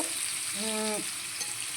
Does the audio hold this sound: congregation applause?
no